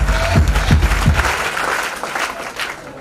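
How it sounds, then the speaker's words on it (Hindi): Audience applause in a seminar hall, loud and steady at first with a few sharp claps standing out, then thinning toward the end. "वेरी गुड, इनके एक बार जोरदार ताली।"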